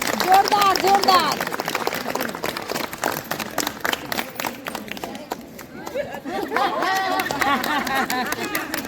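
An audience applauds at a women's group felicitation event, a dense patter of many hands clapping continuously and fairly close, with voices and a melodic sound running underneath throughout.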